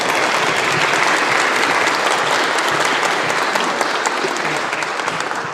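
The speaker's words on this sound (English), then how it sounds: "Give him a round of applause" An audience at a wind ensemble concert applauds director Andrew Sharp, a dense, steady wash of clapping that stays loud and even before easing slightly at the end.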